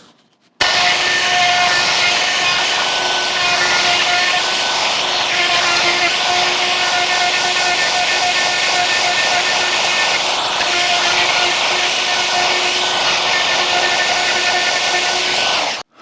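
A Forstner bit drills into the wood of a Strat guitar body during routing. A loud, continuous power-tool whine and grinding runs for about fifteen seconds, close and steady, with no pauses.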